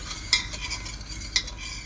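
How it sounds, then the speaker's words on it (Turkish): A spoon stirs lemon sugar syrup in a pot, with two distinct metallic clinks against the side over a soft, continuous swishing and simmer. "Bir ince dilim kestiğimiz limonumuzu ekleyelim ve karıştıralım."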